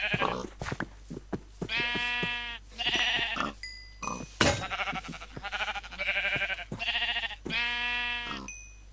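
Minecraft sheep bleat repeatedly in the video game, a series of nasal, wavering baa calls spaced out over several seconds with short gaps between them, moderately quiet and alone without talk.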